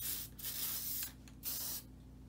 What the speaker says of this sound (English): let's spray the paper